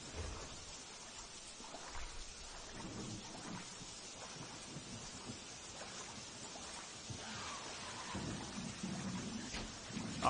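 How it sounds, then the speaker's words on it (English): Steady rain and rumbling thunder from Peter Jackson's King Kong video game, a continuous broadband wash of downpour with low rolling swells, fairly loud and mostly alone with no talk over it. "So the rain puts out the fire."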